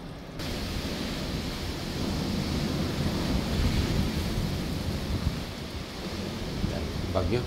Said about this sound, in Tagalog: naririnig niyo yung hangin